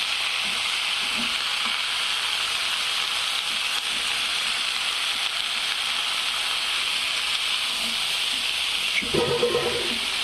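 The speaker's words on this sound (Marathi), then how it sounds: "फक्त तेलामध्ये टमाटे ही टाकून, लसूण ही टाकून, न डाळ टाकता आपल्याला फ्राय करून घ्यायची आहे भाजी मेथीची" Fenugreek leaves with tomato and garlic fry in oil with a steady, even hiss and sizzle close by, and a brief clatter of stirring near the end.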